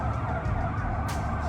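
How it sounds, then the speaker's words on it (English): An ambulance siren passing by along a road, heard alone as a sustained wail amid steady traffic rumble, fairly faint and continuous. "It's a ambulance about to come by."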